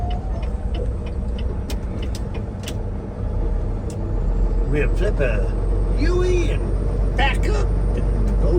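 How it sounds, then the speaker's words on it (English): A truck idling at a loading dock beside a shipper's building, a steady low engine rumble that runs throughout while people talk over it. "there's a truck here already"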